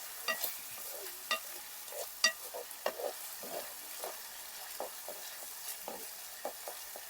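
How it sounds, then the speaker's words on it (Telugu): Ginger garlic paste with curry leaves frying in hot oil in a village kitchen for a small crab curry, a steady soft sizzle broken by scattered pops and stirring scrapes close by. "ఈ అల్లం వెల్లుల్లి పేస్ట్ పచ్చివాసన పోయేంత వరకు ఇలాగ నూనెలోనే ఉడకబెడతాను"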